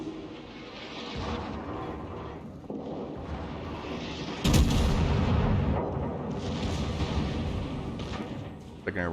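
Secondary battery guns firing during a battleship fight in a naval battle video game: a loud cannon blast mid-clip, then rumbling gunfire and engine drone under a talking voice.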